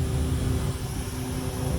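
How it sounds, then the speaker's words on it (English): A small jet aircraft passes overhead as a steady, moderately loud engine drone with a faint whine, and no voices are heard. "Man, that's a baby jet."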